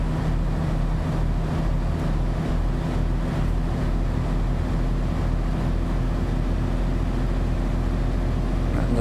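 Truck engine droning steadily at high revs in American Truck Simulator, a loud, constant, unbroken roar with no talk.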